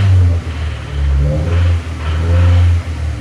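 A car engine, suspected of bent rods, is revved to about 2,500 RPM in repeated swells, loud and close, its low drone rising and falling with a faint tapping beneath.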